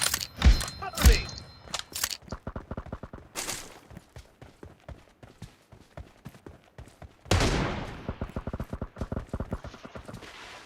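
Rapid shotgun blasts and scattered gunfire in a video game shootout: sharp, loud bangs come in irregular bursts, with denser volleys early on and again toward the end.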